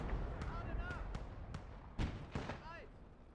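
Pak-36 anti-tank gun firing high-explosive shells in the WWII game Gates of Hell Ostfront, heard as several sharp distant booms spread across a busy battlefield din, with faint whistling streaks between blasts.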